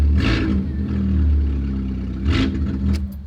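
A Fiat Punto fitted with a cheap aftermarket exhaust starts up and settles into a loud, steady idle with a couple of quick revs, close by and with no talking.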